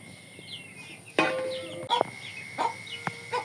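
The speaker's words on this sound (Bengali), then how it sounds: "এদিকে দেখে মুরগি চলে আসছে" Chickens cluck nearby, a few short clucks and soft calls scattered over a quiet outdoor background, with some sharp clatters and knocks mixed in.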